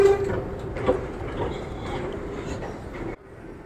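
A metro train in a station makes a rumbling, clattering roll with a thin metallic squeal of wheels. The sound holds at moderate loudness, then drops off abruptly near the end.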